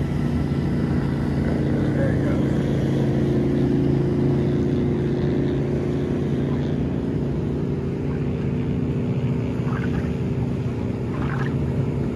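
A Chris Craft boat running a practice lap: a loud, steady motorboat engine drone that holds at the same level throughout, close and continuous.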